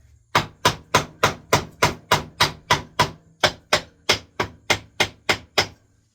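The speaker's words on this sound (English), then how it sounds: "Let me grab this hammer." About sixteen sharp hammer blows ring out in a steady, even rhythm, each a crisp loud strike with a quick decay, close and alone without speech.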